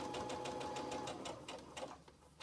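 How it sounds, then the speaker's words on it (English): A sewing machine stitches a flannel washcloth in a quick, even mechanical patter of needle strokes, faint and close, with no talking. "So I'm going to go ahead and take a few stitches and then back stitch."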